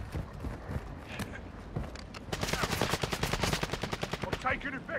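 Gunfire in the Call of Duty: Modern Warfare II video game, scattered shots at first, then a fast, loud automatic burst of rapid cracks, with players talking over it.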